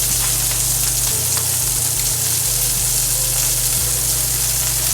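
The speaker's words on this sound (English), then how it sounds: "Now that our salmon is virtually finished, we'll let it keep cooking a little bit back there" Four salmon pieces fry steadily in a pan, a close, continuous sizzle with soft crackles and no pauses.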